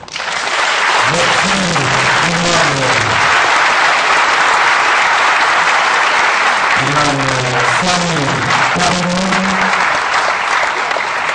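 Loud, continuous applause from a colloquium audience after a speech by the representative of Togo's Muslim leadership, with a voice speaking over the clapping at points.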